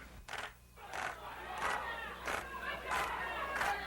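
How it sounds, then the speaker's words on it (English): An unruly crowd at a City Hall hearing, chanting and jeering in rhythmic surges of massed voices roughly every half second to second, sounding somewhat distant and reverberant. "the unruly crowd has grown to such proportions that it now blocks access to other rooms in the City Hall, and the jeering and chanting interfere with proceedings"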